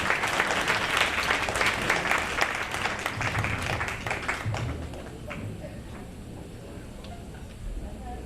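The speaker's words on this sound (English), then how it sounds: "Please give her an applause." Audience applause at a 30th anniversary celebration: dense, sustained clapping from a crowd, loud for about five seconds and then thinning out to scattered claps.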